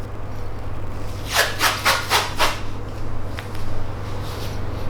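Athletic tape anchors being laid down around a knee for patellofemoral instability taping, heard as a quick series of five soft rubbing, ripping strokes close by over a low steady hum, with no talking.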